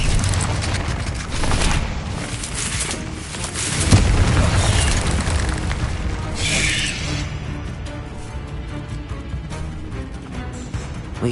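A Confringo explosive spell goes off in Hogwarts Legacy, a burst of booming, crashing blast noise layered with game combat sounds that swells around the middle and then settles into a rumbling tail.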